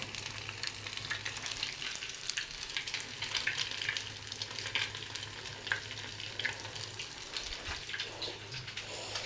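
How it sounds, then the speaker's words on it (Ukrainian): Deruny potato pancakes fry in oil, giving a steady close hiss and crackle with scattered sharper spits, moderately quiet and without speech. "Хай жариться, хай жариться."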